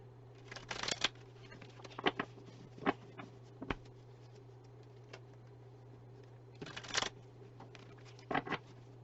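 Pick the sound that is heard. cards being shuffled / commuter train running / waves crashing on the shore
cards being shuffled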